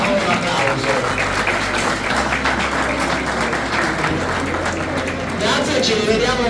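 Continuous applause from a crowd at a regional amateur football awards ceremony in a hotel hall, steady and full throughout, with some voices mixed in beneath the clapping.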